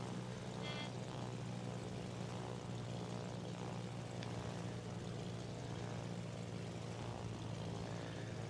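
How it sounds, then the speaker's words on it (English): Propeller-driven bombers cruise in World of Warships, a steady droning engine hum that holds at an even, moderately loud level throughout with no talk. "even at 188 knots, these bombers feel like they're so gosh darn slow compared to those jet planes"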